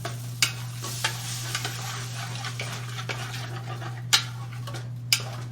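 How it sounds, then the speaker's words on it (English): A spoon stirs chopped tomatoes and a splash of canned tomato juice in a pan over a steady low hum, with soft scraping and a few sharp clinks against the pan. "I'm gonna stir all that in."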